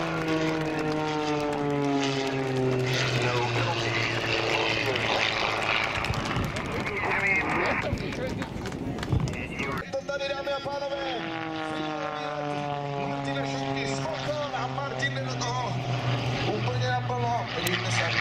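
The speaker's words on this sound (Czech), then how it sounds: "Tak jo, sledujeme kvalifikační leta Petra" Red Bull Air Race aerobatic propeller plane flying a qualifying run at the 2019 Pardubice air show, its engine droning loudly with rising and falling pitch as it maneuvers, with a commentator talking over it throughout.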